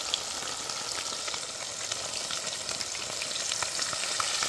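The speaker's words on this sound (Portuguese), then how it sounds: "Já tá fritando já, ó." Fish fries in a pan beside a river, giving a steady, loud, close hiss and crackle of oil that holds even and unbroken throughout, with no voices.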